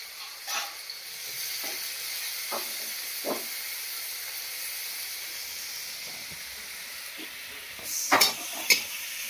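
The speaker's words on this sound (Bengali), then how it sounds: "এই পেঁয়াজটা আমি খুব সুন্দর করে ভেজে নেব" Sliced onion and green chili frying in a pan, a faint continuous sizzle with occasional stirring scrapes and a couple of sharper spatula knocks near the end.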